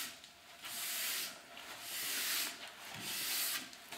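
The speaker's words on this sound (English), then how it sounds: "after I do that first step with that steel brush" Steel brush scrubbing down a ski base from tip toward tail, heard as soft, fairly faint rhythmic rasping strokes, about three or four swells of scratchy hiss in a row.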